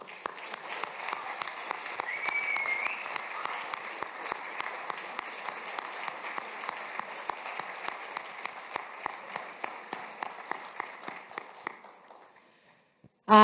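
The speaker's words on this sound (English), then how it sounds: "Please, a massive round of applause to all of them." Audience applause at the LISE 2024 closing ceremony: sustained, dense clapping from a large crowd. It holds steady for about twelve seconds, then fades out abruptly into near silence.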